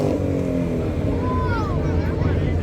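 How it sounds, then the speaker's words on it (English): Cars passing through at a car club event in Tumut, including Mustangs, with steady loud engine rumble and a passing whine, under continuous crowd noise and nearby chatter. "these wonderful cars that we see here coming through"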